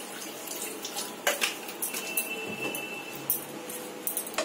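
A little water trickles and splashes into milk in a pan while mango doi is being prepared, a faint, irregular pouring sound with small splashes over quiet background noise.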